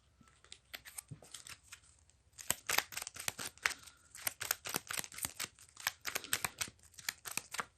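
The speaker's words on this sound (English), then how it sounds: "Reshuffle the deck and discard together to form a new draw pile." A deck of game cards being reshuffled, with quick, close, crisp riffling and flicking sounds in bursts, fairly quiet and with no talking.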